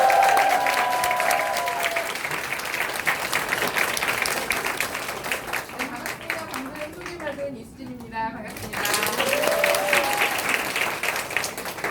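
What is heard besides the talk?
audience applause welcoming lecturer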